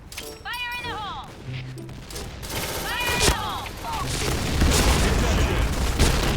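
Loud bursts of gunfire and booming explosions pile up, rising in intensity, with shouted voices and whistling tones mixed in, in a video game featuring a White Tiger light machine gun.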